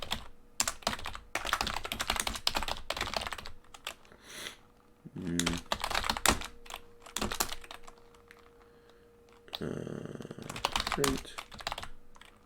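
Code is typed on a computer keyboard in quick bursts of close clicking keystrokes, separated by short pauses and a few heavier clacks, with a faint steady hum underneath.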